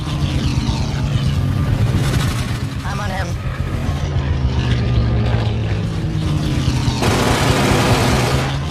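Spitfire fighter planes' propeller engines drone loudly and continuously in an aerial dogfight, with shifting pitch and bursts of noise as they maneuver close overhead.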